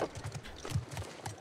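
Horse hooves clip-clop steadily on the ground in The Last of Us Part 2, a quick, even run of close footfalls filling the short moment with no talking over them.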